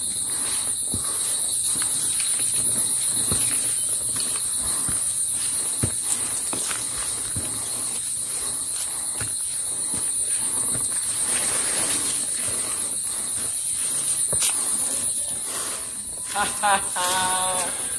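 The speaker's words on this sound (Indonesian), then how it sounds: "bunyi tonggeret ini seperti suasana malam yang sering kita dengar saat di hutan" Cicadas keep up a steady, high, shrill drone in a daytime mountain forest on the slopes of Gunung Slamet. Footsteps crunch along the trail beneath it, and people speak briefly near the end.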